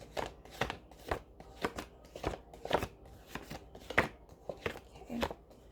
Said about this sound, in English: mess the cards so I can put them together because I can't shuffle